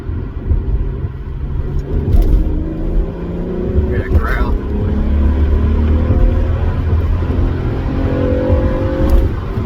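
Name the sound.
Acura CL Type-S engine growling in third gear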